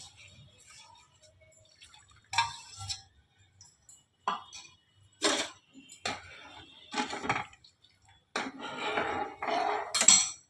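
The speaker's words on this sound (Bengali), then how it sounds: "এই যে আমি গুঁড়ো দুধটাকে গুলে দিলাম" A spoon stirring powdered milk into milk in a metal pot makes intermittent scraping clinks and rattles, close and clear, in uneven bursts with quiet gaps between.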